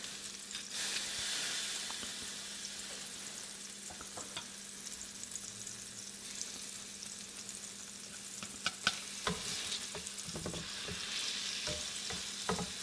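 About three cloves of pressed garlic sizzle softly in three-quarters of a stick of melted butter, a steady low frying hiss with a few scattered pops and stirring clicks, quiet and close.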